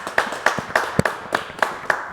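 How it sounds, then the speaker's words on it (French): A studio audience clapping along on a live French TV show, sharp, evenly spaced handclaps in a steady rhythm, roughly four per second, close and fairly loud. "Hein, on l'applaudit,"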